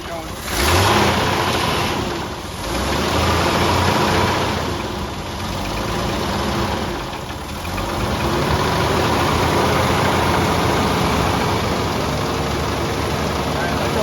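A 1987 Jeep YJ engine running steadily on a rebuilt Weber 32/36 carburetor, a loud continuous idle with a brief rev near the start, close by, with a voice heard faintly underneath.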